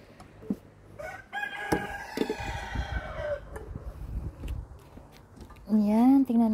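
Backyard chickens, six hens kept for eggs in Canada, make a drawn-out crow and a rising, wavering call near the end, with scattered clucks and faint rustling between them, close to the microphone.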